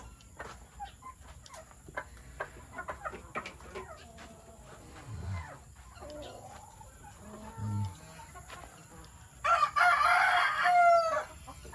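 Farmyard ambience with a rooster crowing loudly near the end, scattered faint clucks and a couple of low animal calls over a quiet background.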